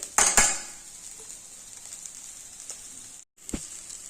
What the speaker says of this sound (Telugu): పచ్చి కొబ్బరి వేసాం కదండి మళ్ళీ కలుపుకోవాలి